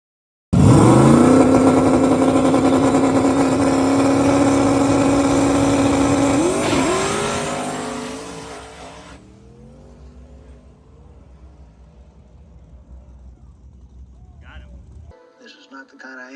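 A drag race car with a single-turbo big-block Chevrolet engine roars loudly and steadily at the track for several seconds, then cuts off abruptly, leaving quieter background sounds and faint voices.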